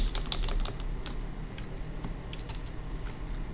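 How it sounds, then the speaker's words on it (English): Rapid clicking of keys on a computer keyboard during Turbo C installation and hot-key use, a steady patter of close, moderately loud keystrokes against faint background hum. "I typed something"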